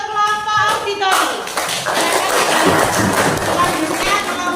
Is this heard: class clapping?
yes